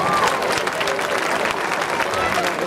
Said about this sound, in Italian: Facciamone ancora un bel applauso.